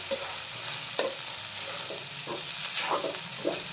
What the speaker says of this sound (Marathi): जोपर्यंत आपलं मोकळं पिठलं होत नाही तोपर्यंत हे असं मिक्स करत राहायचं